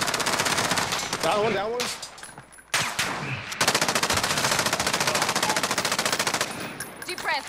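Rapid automatic machine gun fire in the battle royale video game Call of Duty Warzone, loud sustained bursts with a brief pause, while players talk over the shooting.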